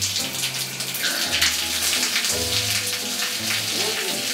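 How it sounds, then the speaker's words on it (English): Shower water rushes steadily through a homemade hydroelectric generator, a loud, continuous hiss and splash of running water with no talking. "So I just did what I should have done to begin with and hooked it up to the shower."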